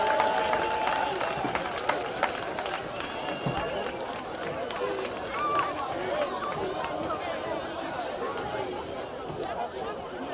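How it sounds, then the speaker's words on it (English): A school crowd applauding the 2008 WCAC champion girls basketball team at a stadium event, with scattered claps, cheers and chatter heard in the distance, and a voice talking over the noise. "Let's get a big round of applause to our girls basketball WCAC champions 2008"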